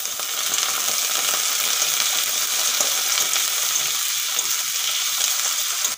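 Continuous bright sizzling of thin potato slices frying in hot oil, close and steady for several seconds with occasional faint stirring clicks.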